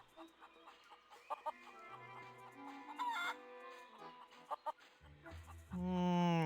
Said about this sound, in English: There's a lot of chickens around here